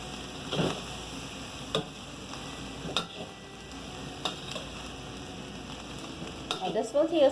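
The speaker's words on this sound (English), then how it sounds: "we're just going to give this a mix before adding in our beans" Chili pepper and saltfish frying in a pan, stirred with a utensil: a constant close sizzle punctuated by several sharp scrapes and taps, with a burst of stirring at the end.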